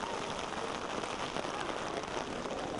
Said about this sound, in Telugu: దుర్యోధన సార్వభౌముడి మరణానికి విలపిస్తున్నట్లుగా ఘోరున వర్షం.